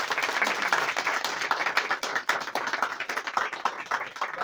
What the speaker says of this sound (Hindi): मैं इन लोगों के लिए जोरदार तालियां बजाना चाहता हूँ